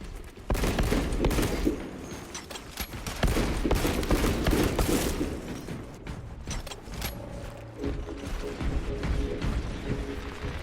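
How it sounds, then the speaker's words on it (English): Rapid sidearm gunfire in Warhammer 40000: Space Marine 2 crackles in dense bursts with mechanical clanks and ratcheting, loud and close over a rumbling battle backdrop, with brief pauses between volleys. "Aim and fire with sidearm when ready, Minister."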